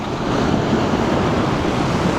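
Strong wind buffets the microphone on the shore during a bass lure-fishing trip in wind and rain, a loud continuous low rumble with a rushing surf-like wash and no voices.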